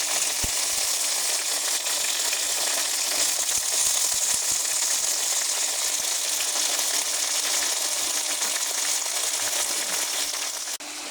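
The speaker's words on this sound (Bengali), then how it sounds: "কেটে রাখা আলু বেগুন সব দেওয়া হয়ে গেছে। এখন আমি ভালো করে নেড়ে দেবো।" Sliced potatoes and eggplant fry in hot oil while being stirred for a spinach dish, giving a loud, steady, close hissing sizzle with faint scraping and clinks throughout.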